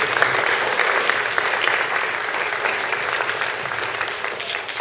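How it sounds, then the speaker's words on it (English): Steady, dense applause from a sizable audience at an LGBT legislative community forum fills the whole stretch, continuous clapping without pause. "So a big round of applause."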